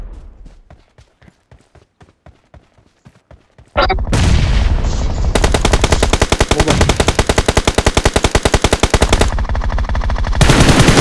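Gunfire in BGMI striking a barrier: a slow run of single shots gives way to loud, rapid automatic bursts with sharp repeated impacts, dense and close, alone without talk.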